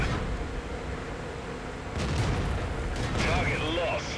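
Tank cannon fire in a tank video game involving a Jagdpanzer IV with an 88 gun, a couple of heavy booms over rumbling engine noise, with a voice talking throughout.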